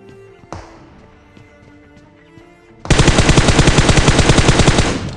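Gunfire in PUBG Mobile: a short quiet stretch with a thud, then a loud, sustained rapid burst of automatic fire from an M249 lasting a couple of seconds.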